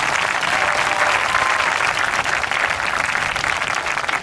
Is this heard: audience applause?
yes